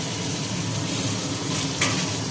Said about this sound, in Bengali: তেলের মধ্যে ছেড়ে দেওয়া হলো